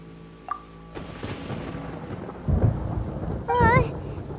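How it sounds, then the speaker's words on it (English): Thunder in the Genshin Impact video game, deep rumbling cracks building from a low roll into two heavier booms, loud and close, with a brief tonal game sound near the end. "Paimon hears thunder!"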